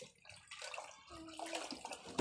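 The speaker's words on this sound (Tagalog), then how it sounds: "Kumuha ako ng tubig" Water being fetched during flooding: a steady, fairly quiet rush and splash of running water, like a tap filling a container, continuous throughout with small gurgles near the end.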